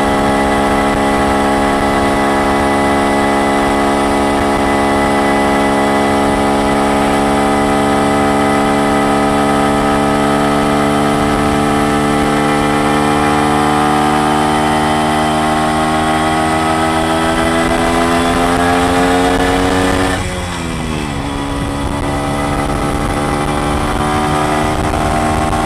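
An MZ ES 150 two-stroke motorcycle pulls up a steep hill in third gear, its loud buzzing engine held close and steady, with the pitch rising slowly before a brief dip and recovery near the end.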